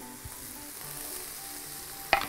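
Peppers sizzle in a frying pan with chicken while a creamy mushroom chicken dish is cooked. The hiss is steady and moderate, and near the end one sharp utensil clack sounds against the pan.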